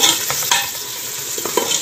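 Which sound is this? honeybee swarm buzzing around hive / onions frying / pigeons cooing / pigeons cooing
onions frying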